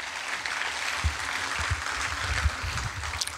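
A crowd claps steadily at an anniversary celebration for Shriniwas Holdings and Utkarsha Investments, a dense, sustained wash of applause lasting the whole stretch, with a few louder hand-claps standing out.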